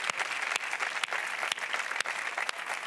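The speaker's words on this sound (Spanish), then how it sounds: "un aplauso para Jorge Ponte" A studio audience claps together in steady, dense applause for a guest on a late-night talk show, with a few sharper loud claps standing out in the sustained wash. There is no talking.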